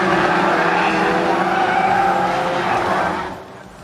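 A race car launches into a heat at Cowdenbeath Racewall, a loud roaring engine with squealing tyres that holds strong and then fades away as the car pulls off into the distance.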